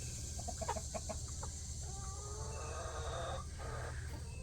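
A backyard flock of chickens clucks and calls at close range, with a rooster's drawn-out crow-like calls rising partway through, steady and moderately loud with no talking.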